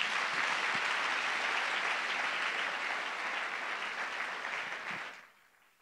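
A church congregation claps together in sustained, dense applause, loud at first and then easing slightly before cutting off after about five seconds, with no talk over it.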